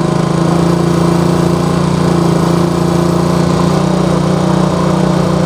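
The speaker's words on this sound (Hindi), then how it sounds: "तो दोस्तों यहाँ आरपीएम इसके बहुत ज़्यादा है" Old-model Honda CD70 motorcycle engine revving at high RPM during carburetor adjustment, a loud, steady, buzzing single-cylinder drone held continuously up close with no talking.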